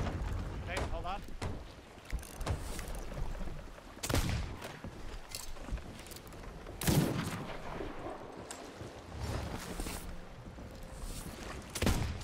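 Cannon blasts and gunfire from a pirate ship battle in the video game Sea of Thieves, several sharp bursts scattered over rushing water and ship noise, with people talking over the action.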